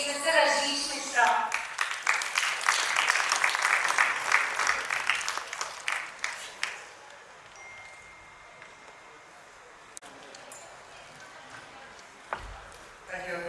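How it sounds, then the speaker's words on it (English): A crowd at an inauguration program applauds loudly at first, the clapping gradually thinning and fading out over several seconds, leaving quiet room sound. "With a huge round of applause, please welcome on stage Mr. Rajesh Mishra."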